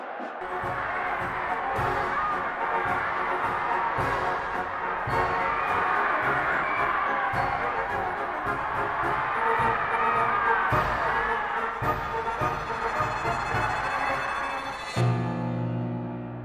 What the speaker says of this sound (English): Through the city, a triumphant procession. Everyone cheering and throwing flowers.